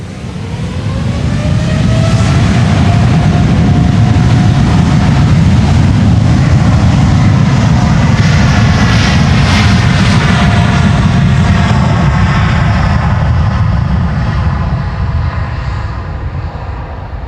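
A KLM Boeing 787-10 taking off from the Polderbaan runway 36L at Amsterdam Schiphol, a loud sustained jet roar with a rising whine, heard from nearby for the whole stretch and fading slightly at the end.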